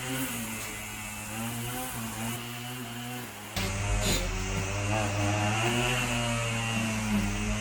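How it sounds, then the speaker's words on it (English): A motorized lawn machine drones continuously outdoors, a buzzing engine hum that steps up in pitch and loudness partway through, with no talking. "Got a guy out there doing lawn work next door, so excuse the noise"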